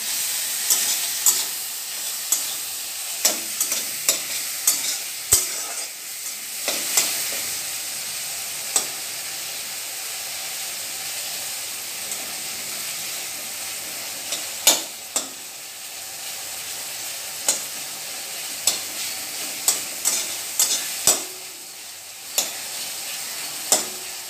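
Chopped tomato, okra and pumpkin sizzle and fry in a pan with salt and turmeric, a constant hissing bed broken by frequent sharp clinks and scrapes of a spoon stirring.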